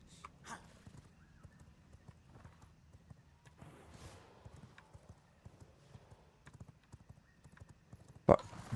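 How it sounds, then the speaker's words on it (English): Horse hooves clip-clop at a steady trot in the vampire survival game V Rising, a faint rhythmic patter running throughout with a sharp loud knock near the end. "get on the fucking horse!"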